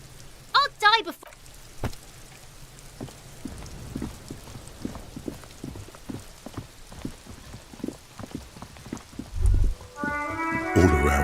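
Rain falls in the video game Disco Elysium as a soft, steady patter of scattered drops, with occasional louder splashes, some music-like tones and a brief synthetic sweep at the end.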